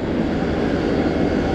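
A restored Suzuki Kana motorcycle with its auto choke cancelled idles, its engine giving a loud, steady, unbroken drone close by, with no speech over it.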